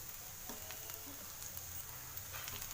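Oil sizzles steadily on a hot pan while a cabbage dosa cooks, a faint continuous hiss with a few soft ticks and crackles scattered through it.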